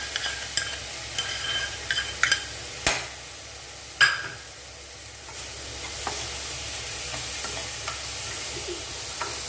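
Bitter gourd frying in a pan as dissolved jaggery is added, a steady soft sizzle with a few sharp utensil knocks and stirring scrapes, no voices.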